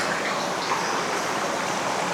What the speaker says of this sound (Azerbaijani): Və nəhayət biz şəlaləyə çatdıq.